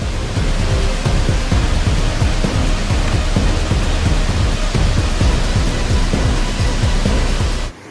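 Heavy rain pours down during flooding in Plantanitos, Guatemala, a loud, dense, continuous roar with low rumbles beneath and no voices.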